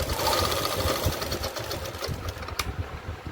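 A sewing machine stitches the side seam of palazzo pants with a steady, fast mechanical whir that runs close and loud throughout, with no talking.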